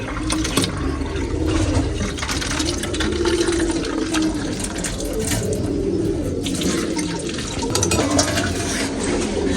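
Lukewarm water pours steadily and loudly for nearly ten seconds, a continuous close splashing stream with slight surges, with no talk over it.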